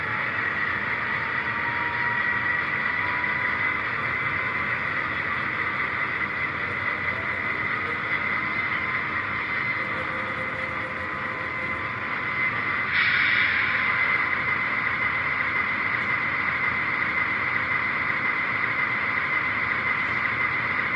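An MTH ES44AC model diesel locomotive running its extended startup sequence, a steady droning engine rumble that holds evenly throughout with a slight swell partway, close and fairly loud with no talking.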